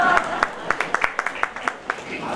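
Audience clapping at a mega event, heard as a dozen or so scattered, distinct claps rather than a full ovation, fairly close and moderately loud over a murmur of background voices.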